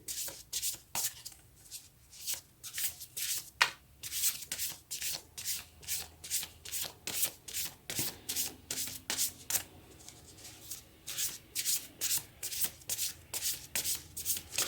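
A deck of Angel Wisdom oracle cards gets shuffled steadily by hand, a close, regular run of rapid riffling and rubbing strokes that continues without pause and with no talking.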